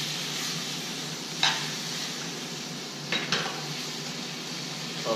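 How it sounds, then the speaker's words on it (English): Vegetables sautéing in a pan for Thai drunken noodles, a soft steady sizzle with a few sharp clinks and scrapes of a utensil stirring. "Saute the vegetable a little bit."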